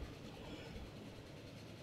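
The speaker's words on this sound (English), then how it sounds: "I will ride the train." A passenger train runs steadily in the Transport Fever 2 simulation game, producing a continuous rumbling roll with a faint clickety-clack of the wheels and no voices over it.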